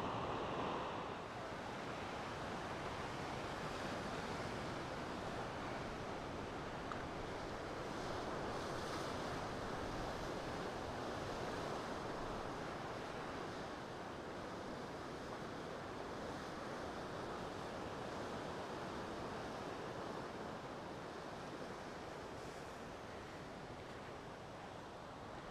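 Ocean surf at Tayrona National Park, Colombia, near a river mouth: a constant broad wash of breaking waves mixed with wind buffeting the microphone, steady and unbroken, with no voices.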